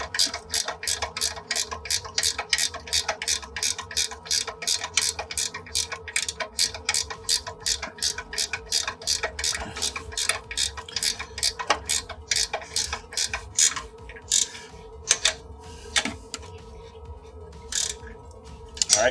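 Ratcheting gear wrench tightening a fastener on a car during exhaust work in a garage, a rapid steady run of sharp metallic pawl clicks, close and fairly loud, that slows into scattered clicks toward the end.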